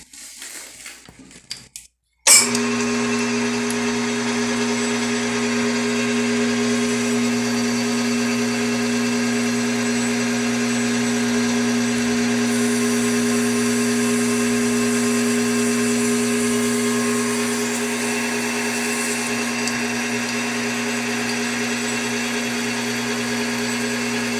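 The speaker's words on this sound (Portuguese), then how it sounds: "Tirando passe de 2 milímetros no manual. Ferramenta bem afiadinha, ó, como é que corta, ó." A Tecnil nylon workpiece is cut on a Bv20l lathe with a sharp tool taking a 2 mm manual pass, a steady loud machining whine with a strong hum running continuously after a brief quieter start.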